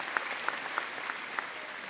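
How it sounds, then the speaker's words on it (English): Brief, fairly faint applause from a graduation audience at a college commencement, with a few distinct sharp claps standing out over a soft wash of clapping. "Let's give Mandy one of her first rounds of applause here today."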